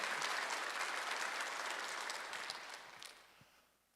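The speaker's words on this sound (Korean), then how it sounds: "박수로 하세요" A church congregation claps together during a Sunday worship sermon. The dense, even applause starts full and gradually fades toward the end, with a few scattered claps trailing off.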